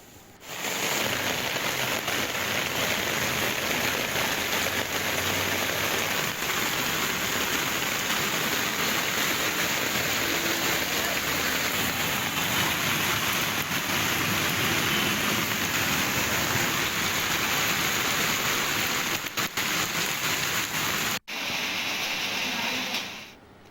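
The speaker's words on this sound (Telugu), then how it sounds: "భాగ్యనగరాన్ని మరోసారి భారీ వర్షం ముంచెత్తింది." Heavy rain pours down on Hyderabad in a dense, steady roar that stays loud and constant for over twenty seconds before briefly cutting out near the end.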